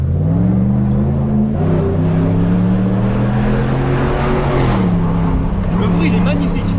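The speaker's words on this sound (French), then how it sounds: "Mais le bruit, il est très joli. Gros V8 américain, on connaît bien." Big American V8 in a Dodge Ram pickup revving loudly and steadily up close, a deep sustained rumble with rising and falling pitch throughout.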